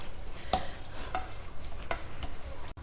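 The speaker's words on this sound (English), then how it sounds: "over a low flame continue cooking till the jaggery melts" Jaggery and raw mango being stirred together in a pan over a low flame, with a few distinct scraping stir strokes over a soft, steady sizzle and no talking.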